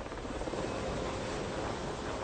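A military helicopter sent out on a patrol flight, its rotor and engine noise a steady dense drone, close and continuous with no talk.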